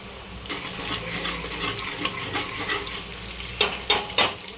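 Garlic and green chillies tossed into hot oil for a dal palak dish, giving a steady close sizzle with stirring scrapes, ending in a few louder clinks of a spoon against the pan.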